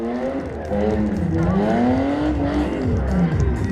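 A drag racing car at a drag power show roars loudly as it accelerates, its engine note climbing and wavering in pitch while tires faintly squeal, close and continuous throughout.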